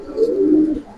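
A Giribaz pigeon gives a single short, soft coo, near and alone.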